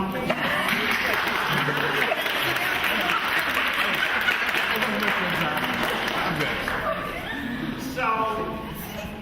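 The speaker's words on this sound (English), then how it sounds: "Can we give them a round of applause?" Sustained, dense audience applause honoring women at a National Council of Negro Women Chicago Midwest Section gathering, loud and close for about nine seconds, with crowd voices and cheers mixed in before it thins slightly at the end.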